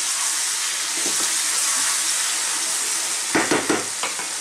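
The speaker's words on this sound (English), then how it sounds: "And I am going to just stir these in now." Chopped tomatoes are stirred into onions frying in a pan: a loud, steady hiss of sizzling fills the space, and a few scraping stir strokes sound near the end.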